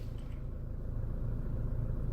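A 1974 GMC truck with a 4.8 engine idles at a drag strip, a steady low rumble held close and even throughout with no talk over it.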